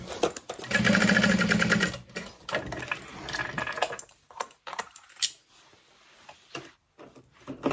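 A sewing machine bastes a slip pocket onto a tote bag. A fast, steady mechanical stitching run lasts about three seconds, followed by a few short bursts and handling clicks.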